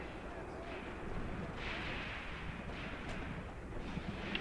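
Battle gunfire and artillery from the World War II strategy game Graviteam Tactics, set at Kharkov in 1941: a steady, muffled roar of distant combat with scattered bursts and booms throughout.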